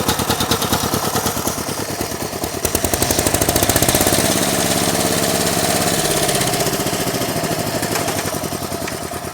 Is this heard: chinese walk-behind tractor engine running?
yes